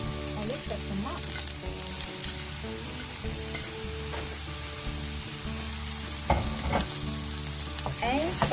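Squid stir-fried with red and green peppers and leeks sizzles steadily in a hot pan, with scraping stirs throughout and a louder clatter of utensil strokes near the end; no talking.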